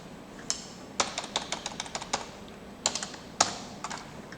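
A computer keyboard being typed on to enter a Java file name when saving a program, heard as bursts of quick, close, crisp key clicks with short pauses and no talking.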